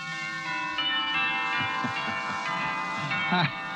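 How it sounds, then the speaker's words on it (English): Wedding bells ring in a steady, overlapping peal, bright tones sustaining over a low murmur, moderately loud and continuous for a few seconds, in a radio drama. "I understand. Wedding bells."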